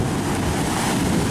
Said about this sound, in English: The stupid waves.